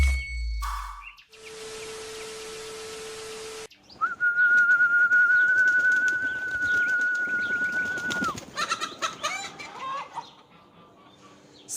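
Birds in a pigeon loft: a long sustained whistle-like call and scattered clucking and fowl sounds, close by, with a burst of hissing noise early on and no talk.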